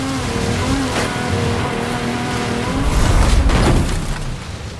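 Engines of a Ferrari, a Lamborghini Murcielago and a Ford Fiesta race in Forza Horizon, a sustained whining engine drone that swells into a louder rushing pass near the end, then fades.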